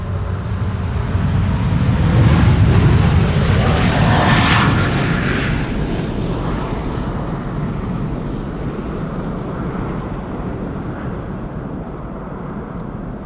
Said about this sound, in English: This is KLM flight 743 to Lima in Peru.